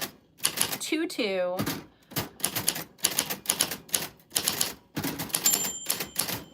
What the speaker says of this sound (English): Typewriter ASMR